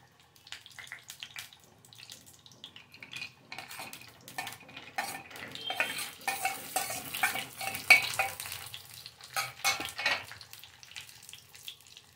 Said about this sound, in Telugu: వీటిని కొంచెం చక్కగా ఫ్రై అనేది చేద్దాం గోల్డెన్ కలర్ వచ్చేదాకా